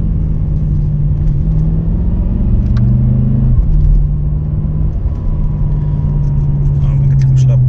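A BMW M5 F10 twin-turbo V8 idling and rumbling loudly up close, a deep steady drone with slight shifts in pitch.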